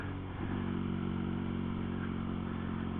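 An old motorbike engine runs steadily at close range, a loud continuous low rumble with a brief rev near the start, heard while riding through old English villages.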